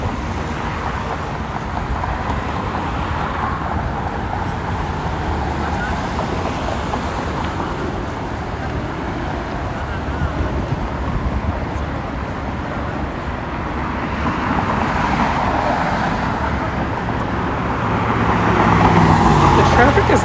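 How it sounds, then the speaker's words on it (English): Steady New York City street traffic near River Park, facing the World Trade Center, on a hot July day: a continuous low roadway rumble of cars that swells slightly near the end. "Traffic is not as heavy."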